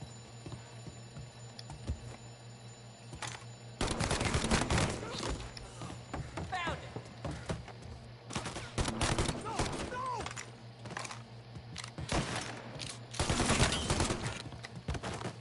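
Video game gunfire in Mafia Definitive Edition, with repeated sharp shots and scattered bursts over a steady background hum, fairly quiet overall, with voices talking and shouting amid the shooting.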